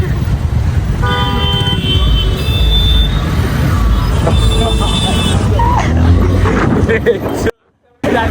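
Road traffic heard from inside a vehicle on a late-night drive in Ravet, steady engine and road rumble with a few car horn toots, loud and continuous, with a brief dropout near the end.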